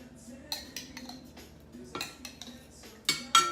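A spoon spreads vegan marinara sauce across the bottom of a baking dish for an eggplant bake, making scattered metallic scrapes and light clinks against the dish at an uneven pace, close and fairly soft.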